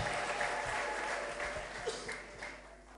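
A church congregation claps steadily and fairly loudly for about three seconds. Scattered voices and cheers mix into the applause.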